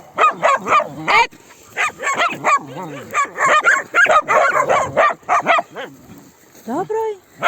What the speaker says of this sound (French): C'est maman qui aboie.